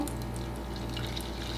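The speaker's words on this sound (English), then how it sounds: "Now we're going to pour the rest of it in." A yogurt slurry pours steadily into a container, a soft continuous liquid trickle and splash held at low level from start to end with no voices.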